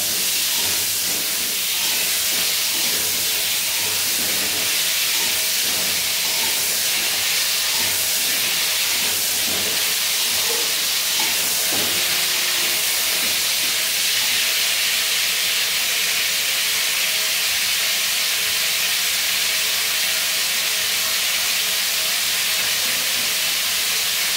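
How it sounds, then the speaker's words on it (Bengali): Potatoes with salt stir-fried over a high flame, a loud continuous hissing sizzle close by with occasional scraping and clattering as they are tossed, no talk. "নুনটা দিয়ে এভাবে একটু হাই ফ্লেমে নেড়ে চেড়ে ভেজে নেব"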